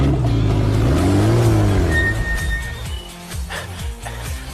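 A car engine revs close by and pulls away to be parked, a loud rising drone that sweeps up and then fades into lower rumbling as it moves off.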